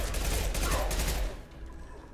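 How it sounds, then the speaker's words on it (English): Rapid machine pistol fire from the video game Mass Effect 2 crackles as a dense burst, loud and close, tapering off after about a second. "Let's use incinerate. Switch to machine pistol."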